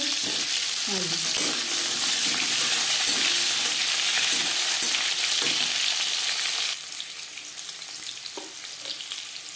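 Panch phoron spices fry in a little oil for a traditional cabbage ghonto, a dense close sizzle that drops to a softer crackle partway through, with faint stirring and no voices.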